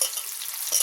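Fish frying in hot oil with kanthari chili, a loud, close, bright crackling sizzle filling a brief moment, no voices.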